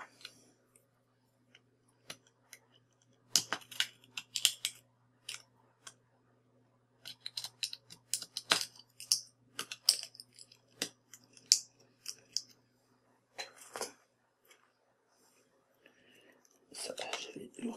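Snipping and cracking sounds come from an Epson ink cartridge being cut and pried open, with sparse sharp clicks and crunches in irregular bursts against a quiet background and faint low talk.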